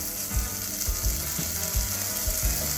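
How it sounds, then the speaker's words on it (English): Apple smoked bacon fries in a pan with a steady bright sizzle, while a regular, repeating low clicking thump runs underneath. "we're gonna start frying off this wonderful apple smoked bacon"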